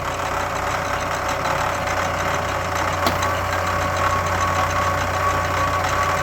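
A milling machine spins a tiny homemade wind-turbine alternator at about 400 RPM, making a loud, steady mechanical drone with regular low thumps and no talking.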